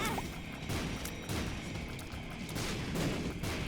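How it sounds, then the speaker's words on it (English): Bomb explosions in The Binding of Isaac during a deathless run: dense, continuous crashing blasts, loud and overlapping, with the game's distorted sound filling the whole stretch. "You see the bomb explosions?"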